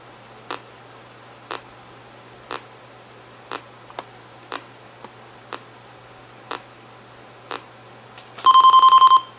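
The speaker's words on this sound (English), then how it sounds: "Keith beat me to the buzzer" A game-show buzzer from the DOS game Jeopardy! Junior Edition sounds once near the end as a loud, sustained electronic tone. Before it comes a steady, faint ticking at about one click per second, with no talking.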